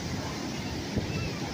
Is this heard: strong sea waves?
yes